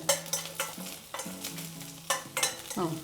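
Garlic sautéing in a pan for gongura chutney, with a steady sizzle broken by repeated scraping and stirring strokes, close and fairly loud, no voices.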